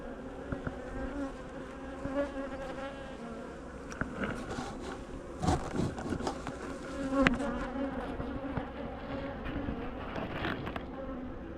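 Honeybees buzzing around a hive, a dense humming drone with individual bees swooping close and louder at moments, plus faint clicks and rustles.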